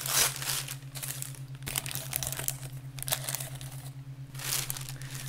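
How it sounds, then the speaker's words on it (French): Parchment paper being torn into pieces and crumpled by hand, a series of close, crisp crinkling and ripping bursts in uneven clusters over a steady low electrical hum, with no talking. "Du papier sulfurisé. Je vais genre en déchirer des morceaux et genre les mettre dedans"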